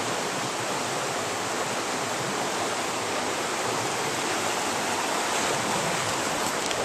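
Stream in high water rushing steadily with a dense, broadband roar, close and constant without pause.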